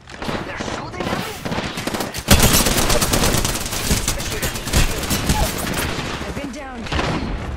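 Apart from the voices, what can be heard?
gunfire in Apex Legends video game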